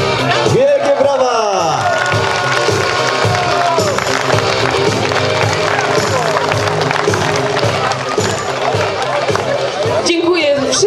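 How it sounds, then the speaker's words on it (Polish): A crowd at an outdoor charity challenge event in Orzysz cheers and applauds loudly and continuously, with shouts and whoops rising over the dense roar of many voices. "Wielkie brawa!"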